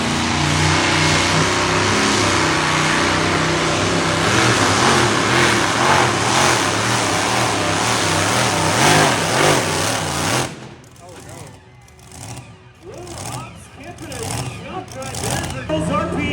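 Pulling tractor engine revving at high RPM at a tractor pull event in Sandy Downs, Idaho, a loud sustained roar with wavering pitch for about ten seconds before dropping away to crowd noise and voices.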